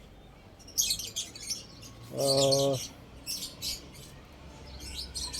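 Pet lovebirds chirp near a pigeon loft, giving scattered short tweets and one louder, sustained harmonic call in the middle. Background noise sits underneath, and a voice is briefly heard.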